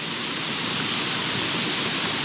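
A large mountain spring on Mount Banahaw sends out water in a steady, loud rush of dense, unbroken flow, heard up close with no voices over it.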